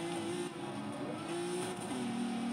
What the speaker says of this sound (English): screaming engines and screaming tires here